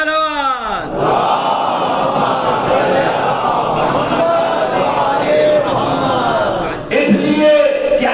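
A large congregation at a Muharram majlis in London raises loud rhythmic chants and salawat, massed voices swelling together in a hall with strong echo, briefly dropping and then surging again near the end.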